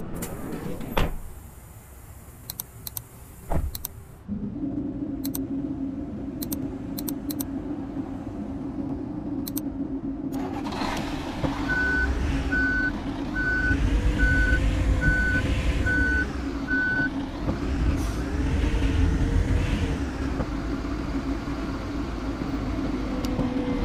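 In the Bus Simulator Ultimate video game, a bus idles with a steady engine drone, then door clunks and a regular series of reversing beeps sound over rising engine rumble.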